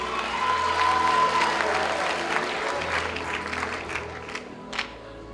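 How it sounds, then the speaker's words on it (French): Audience applause fills a closing awards ceremony of a youth film festival, steady dense clapping throughout with a faint murmur of the crowd and a brief louder burst near the end. "On les applaudit très très fort."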